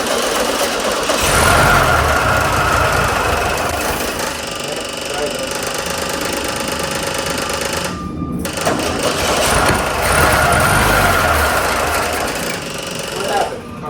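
A 1972 VW Super Beetle air-cooled engine runs loud and rough with a rapid clattering rhythm, cuts out briefly, then picks back up; a voice talks over it.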